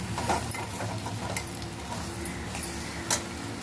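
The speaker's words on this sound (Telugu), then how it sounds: "బ్రెయిన్ ఫ్రై అయిపోయిందండి." Goat brain frying and being stirred in a pan, with a steady close sizzle and occasional scrapes and ticks of a utensil against the pan, no voices.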